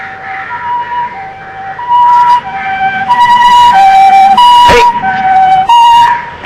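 A loud ambulance siren wails in a steady two-tone rise and fall, close and continuous, with a sharp knock partway through; no voices over it.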